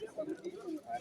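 Pigeons at an open-air pigeon market in Bonarpara give low, rolling coos in repeated phrases, mixed with nearby crowd murmur and people talking.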